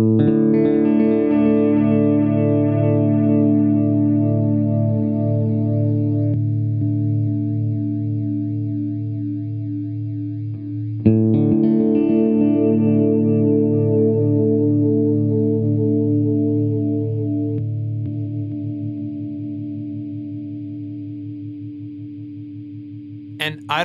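A Catalinbread Belle Epoch Deluxe delay pedal sustains repeating guitar tones that decay, then switches modes with a sudden jump in the echoes around the midpoint, the repeats fading again afterward, loud and close.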